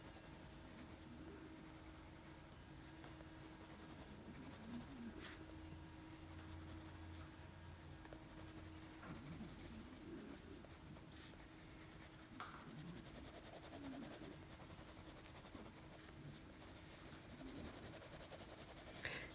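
Soft, steady scratchy rubbing of a colored pencil shading gently in circular motions over paper, quiet and continuous with faint background hiss.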